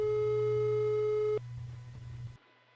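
In an audio drama phone call, a steady electronic telephone tone holds for over a second, then drops to a lower continuous hum before cutting off abruptly into silence.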